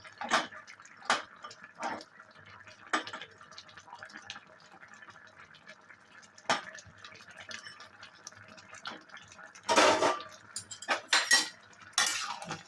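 A spoon stirs prawn (chingri) curry in a metal pan. Soft scraping is broken by scattered clinks, with a louder burst of clattering strikes near the end. The sound is close by and no one speaks.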